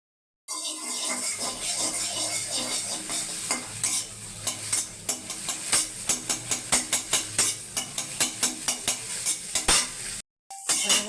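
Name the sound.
eggs frying in oil for egg bhujia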